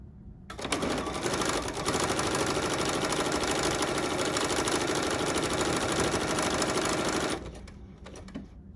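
A sewing machine works a decorative stitch pattern to form a small flower on a fabric notepad holder, humming loudly and evenly for several seconds before stopping, with no talking.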